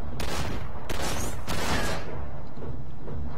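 Dense, loud video-game gunfire from a S.A.W. in Cortex Command: rapid overlapping shots and booming bursts fill the whole stretch, with the heaviest volleys early before easing slightly.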